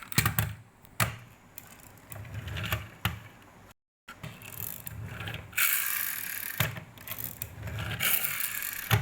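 A Tata Sumo toy car's small electric motor and gears whir and rattle in uneven bursts, with clicky mechanical chatter, a brief dead pause near the middle, then a louder sustained whirring stretch.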